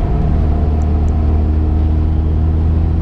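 A 2006 Cummins 5.9 diesel pickup truck climbs uphill under throttle, with a steady, loud low-pitched engine drone and rumble running throughout, close and continuous, with no voices.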